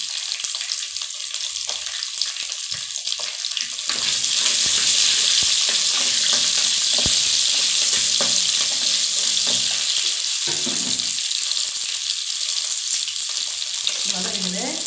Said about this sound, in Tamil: பொரிஞ்சோடனே கொஞ்சோண்டு சின்ன வெங்காயம் வச்சுருக்குறோம் இல்லைங்களா,